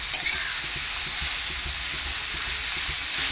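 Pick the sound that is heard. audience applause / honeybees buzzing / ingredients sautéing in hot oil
ingredients sautéing in hot oil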